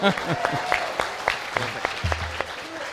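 Scattered audience applause in a debate hall, a handful of distinct claps spaced irregularly rather than a full ovation, with voices speaking over them.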